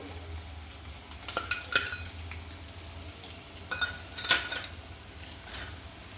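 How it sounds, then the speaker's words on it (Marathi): Potatoes stirred in hot oil in a pan for a dhaba-style mixed vegetable dish, with two clusters of clattering utensil scrapes and clinks over a faint steady frying hiss. "तेल छान गरम झालं आहे आता आपण यात टाकूया बटाटे"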